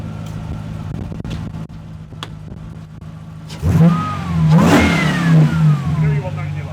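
A supercharged 6.2-litre V8 engine idles, then roars loudly as it's revved hard several times, the pitch climbing and falling with each blip, close by.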